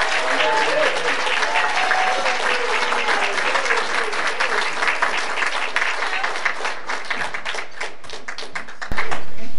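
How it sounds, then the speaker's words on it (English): Loud, sustained applause from a banquet audience, dense clapping throughout that thins slightly toward the end before a sudden cutoff. "how about a round of applause"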